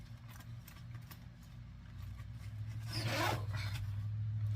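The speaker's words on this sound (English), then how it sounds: "We've got a zipper." A zipper on an insulated, multi-pocket craft bag is pulled open in one quick, rasping stroke, heard close up over a low steady background hum.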